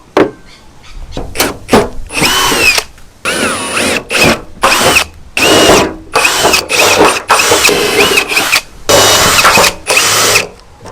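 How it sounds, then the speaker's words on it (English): A power drill whirs in repeated short bursts separated by brief pauses, loud and close, pilot-drilling one hole after another during a vehicle snorkel install. "So I'm just going to pilot drill all these"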